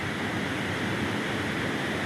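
Water gushing powerfully at Wawa Dam, a steady, loud, broadband roar with no break, near and unbroken by any voices.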